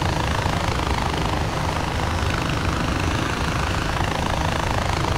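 A small helicopter in the video game Far Cry 4 flies at altitude, its engine and rotor making a loud, continuous, dense roar that stays steady throughout without pause.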